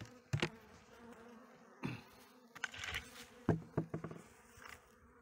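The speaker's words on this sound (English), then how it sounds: "A lot of bees flying around right here." Bees buzz around hives outdoors, with scattered loud passes close by and a faint hum of more bees behind them.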